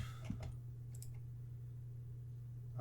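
A couple of light computer mouse clicks while setting up a website page builder, quick close taps near the start over a steady low electrical hum, then quiet.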